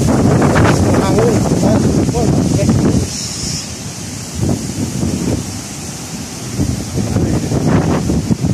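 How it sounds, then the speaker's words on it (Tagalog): Strong wind buffets the microphone outdoors in Bonifacio Global City, producing a loud, continuous low rumble that dips briefly midway, with faint voice fragments underneath. "hangin"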